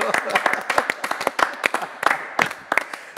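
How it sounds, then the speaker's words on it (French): A small group claps in a studio after a birthday song, loud irregular bursts of individual hand claps with uneven rhythm, close and dry, continuing throughout. "On peut les applaudir."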